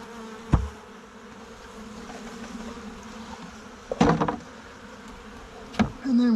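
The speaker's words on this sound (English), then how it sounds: "So I'm going to just dump the bees as best I can." Honey bees hum steadily as they are dumped into a five-frame nuc box, the close buzz broken by a few sharp knocks of the wooden box being tapped and handled.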